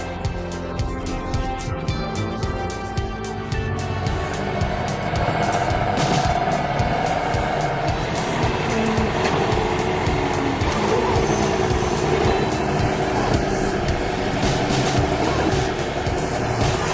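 A truck engine roars continuously as its wheels spin in mud, a loud, sustained droning growl with grinding and churning texture that persists for the whole stretch.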